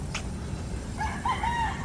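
A rooster crows in the distance, a faint drawn-out call rising over steady low background noise.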